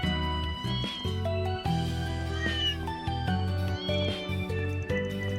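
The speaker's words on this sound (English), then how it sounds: "There's another cat." A cat in the video game Trails Through Daybreak 2 meows repeatedly over a steady background of game music, the calls rising and bending clearly above the score.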